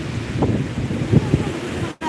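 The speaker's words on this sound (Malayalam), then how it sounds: "ഇന്ന് ഭയങ്കര കടൽ കോപമാണ്" Rough, churning sea surf at Vettukad beach, a steady broad roar of breaking waves with a few louder surges, close and loud with wind buffeting the microphone, cutting out briefly near the end.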